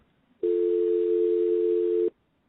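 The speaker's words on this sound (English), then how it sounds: "now when you hear this dial tone, I'll play this for you" A steady, loud telephone dial tone holds for under two seconds, then cuts off abruptly, with no other sound.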